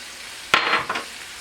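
Red onions and diced ham hit a hot pan for a quiche with a sharp burst of sizzle, then a second short scrape-and-hiss as they are moved around, quickly settling to a quiet fry.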